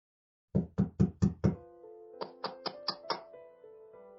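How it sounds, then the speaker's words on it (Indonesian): A hand knocks on a glass office door: five firm, evenly spaced knocks, then five lighter, ringing taps after a short pause, all close and clear in a quiet room. "Pak Agus langsung mengetuk pintu kaca"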